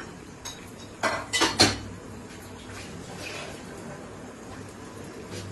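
A bowl clatters and clinks against a cooking pan in a couple of sharp, close knocks as it is rinsed and its water poured in for a Jodhpuri chicken dish, followed by quieter kitchen background.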